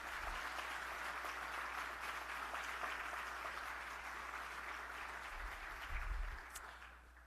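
Stadium naming event audience applauding the arriving Orlando Pride players, a sustained, even patter of many hands at a moderate distance, fading near the end.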